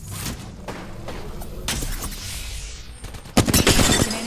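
Gunfire in the battle royale shooter Apex Legends, with scattered shots and thuds giving way to a loud, close burst of rapid fire near the end, no talking.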